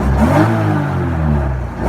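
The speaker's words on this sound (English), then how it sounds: "I'll give you a couple more revs." A BMW E30 with a swapped S52 engine revs up steadily and loudly close by, a low throaty drone that swells near the end.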